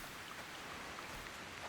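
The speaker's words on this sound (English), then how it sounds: "And it's raining." Rain falling in the Sengoku Dynasty video game, a steady, soft, dense hiss of rainfall that stays even throughout without other sounds.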